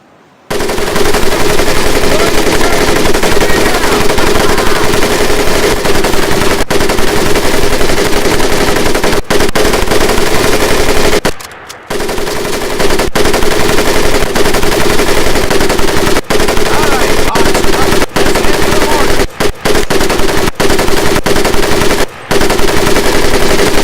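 A machine gun fires at boot camp training in Medal of Honor Pacific Assault, loud, continuous rapid fire with only a brief break partway through and a few tiny gaps.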